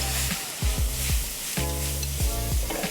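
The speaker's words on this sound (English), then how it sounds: "Now we will be seasoning this with a little bit of soy sauce" Rice cakes stir-fried with soy sauce sizzle steadily in a hot pan, with repeated scraping strokes of a utensil over the continuous frying hiss.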